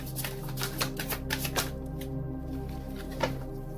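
Romance Angels oracle cards shuffled and riffled by hand in a quick run of soft, papery flicks and taps, close and fairly quiet, easing off into near silence with one last light snap.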